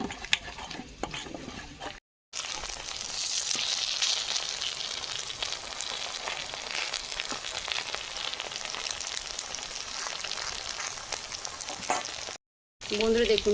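Pumpkin flower fritters sizzle and crackle in hot oil in a village kitchen, a steady dense hiss running almost continuously near the mic with two brief breaks.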